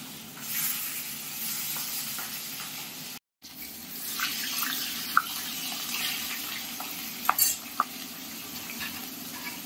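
Pieces of fatty katla fish belly fry gently in a pan, a soft steady sizzle with a few faint clinks and scrapes.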